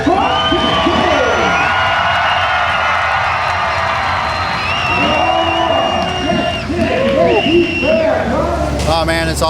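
Loud crowd cheering and shouting fills the stands at a monster truck event, with whoops and an announcer talking over the continuous roar, rising again near the end.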